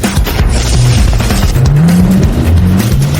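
A car pulls away hard, its engine revving loudly and rising in pitch with a brief tire squeal, close and continuous throughout.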